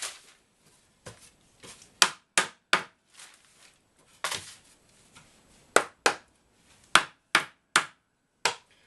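Sharp wooden knocks from a mallet tapping flat-pack beehive roof pieces together, in irregular bursts of single and paired strikes, close and fairly loud.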